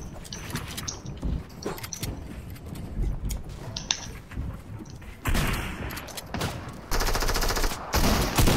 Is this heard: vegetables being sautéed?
no